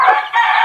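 A rooster crows in a backyard fighting-cock coop, one sustained close and loud call that dips briefly midway and carries on to the end, with no talking.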